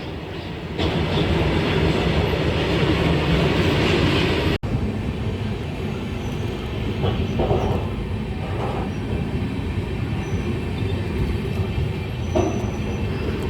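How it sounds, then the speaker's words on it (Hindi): A train rumbles steadily along the rails in India during the monsoon, a continuous loud roar with faint wheel clatter and occasional squeals, heard from inside the moving train. "अनशेड्यूल्ड हॉल्ट के बाद अपनी मंजिल की तरफ बढ़ते हुए हम और हमारी ट्रेन"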